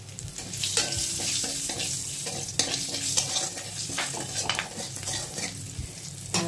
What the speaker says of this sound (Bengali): আমি কালো জিরে ফোড়ন দিলাম, কাঁচা লঙ্কা ফোড়ন দিয়ে দিলাম দুটো